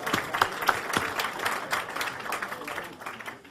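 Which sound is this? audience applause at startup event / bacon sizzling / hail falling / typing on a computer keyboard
audience applause at startup event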